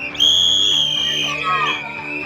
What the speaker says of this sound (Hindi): सीटी बजाकर उन्हें स्कूल बुलाया जा रहा है।